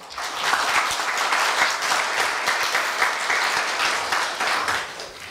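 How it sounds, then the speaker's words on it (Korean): At a Korea University staff retirement ceremony, the audience claps warmly to welcome a retiring senior staff member, a full, steady round of many hands that continues for several seconds without speech. "박노철 주임님을 큰 박수로 맞이하여 주십시오"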